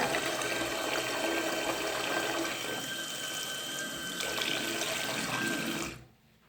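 Tap water runs steadily into a sink as a Hello Kitty toy is washed, a continuous close splashing rush that cuts off abruptly near the end.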